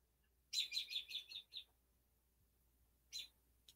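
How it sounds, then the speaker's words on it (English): A quick run of high, bright bird chirps, then a pause and one more short chirp, fairly close in a quiet setting. "Can you hear my birds chirping?"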